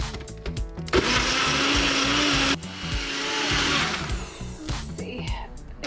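A small blender whirs loudly and steadily, churning pineapple chunks for Dole Whip, its motor pitch shifting as the contents churn, with brief clunks at start and end.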